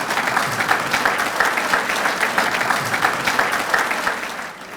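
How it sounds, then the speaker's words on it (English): A crowd at an athletics hall of fame induction ceremony applauds warmly, with dense, steady clapping that carries on for several seconds and fades slightly at the end. "So how about that round of applause for our coaches?"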